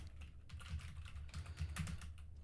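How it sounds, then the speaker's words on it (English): Steady typing on a computer keyboard while writing Rust code, a continuous patter of close, fairly quiet key clicks with no talking over it. "I'm just going to type in a string here that says you've just typed"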